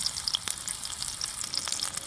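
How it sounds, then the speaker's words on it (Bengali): Chopped onion fries in oil in a karahi for a beef and potato curry, a bright, close sizzle with rapid scattered crackles and pops over a steady hiss, fairly soft and without speech. "তো ফোড়নের পেঁয়াজটাকে আমি ভেজে নেব, একেবারে বাদামি করে ভেজে নেব"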